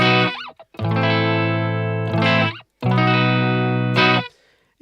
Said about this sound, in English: it's got that kind of, you know, sort of breaking up old Fender front end kind of a sound